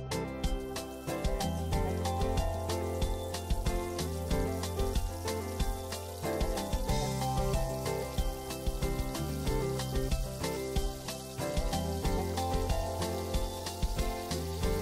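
Pomfret fritters deep-frying in very hot oil: steady crackling and bubbling that stays even for the whole stretch, with a faint tonal hum running underneath.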